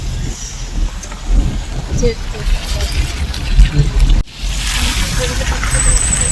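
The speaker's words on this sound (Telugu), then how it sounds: "అసలు వర్షం కొడుతుంది కదా" Rain falls outdoors at a hilltop temple site with a boat nearby, a soft steady patter and wash under close conversational talk, with a brief dropout midway.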